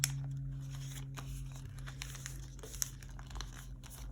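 Paper being cut and handled while setting up budget binders, with crinkling, rustling snips and small crunches close by and no talk.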